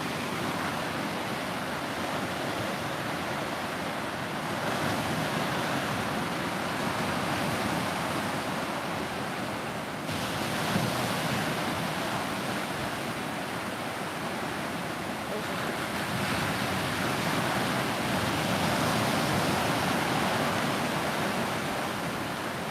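Ocean waves wash steadily onto a beach in Navarre in the Florida Panhandle, a continuous broadband roar of surf with gentle swells in loudness and no voices.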